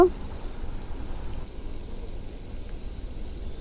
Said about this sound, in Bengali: সবগুলো পিঠে কিন্তু ভাজা কমপ্লিট এখন উলট পালট করে একটু লাল লাল করে ভেজে নেব